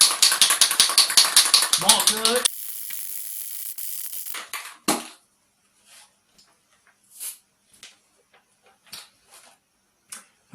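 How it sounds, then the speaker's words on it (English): A can of heat-resistant spray paint is shaken hard, giving a fast, loud, even rattle for about two seconds. Scattered light taps and clicks follow, and a voice speaks briefly. "Now just your heat resistant spray paint. Shake it up good."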